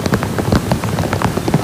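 Heavy rain falls during a coastal storm with high tides and huge surf, a loud, dense patter and splash of drops with scattered sharper hits throughout.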